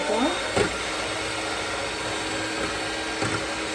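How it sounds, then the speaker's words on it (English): An electric kitchen mixer runs with a continuous, fairly loud motor whir and a couple of short clunks, no talking over it. "My mixer doesn't want to work. There we go."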